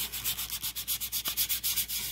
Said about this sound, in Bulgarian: Сега минавам го още един път с тази шкурка, за която говорих.